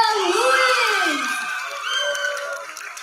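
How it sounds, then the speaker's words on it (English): Crowd at a closing ceremony of an English festival cheers and whoops for the speech competition winner, a loud, dense swell of voices sustained throughout that eases slightly toward the end. "Give a round of applause to Lavenia Luis."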